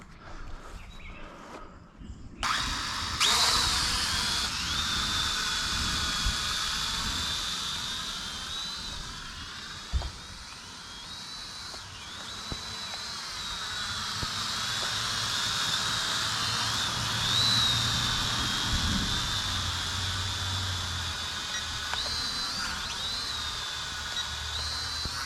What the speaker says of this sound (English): Quick test of the E88 screen drone outside.